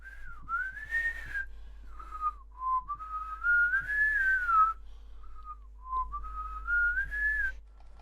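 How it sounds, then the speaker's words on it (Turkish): A lone person whistles a slow, wavering tune in a meadow, with several drawn-out rising and falling phrases over a quiet background. "Çayırda ıslık çaldı."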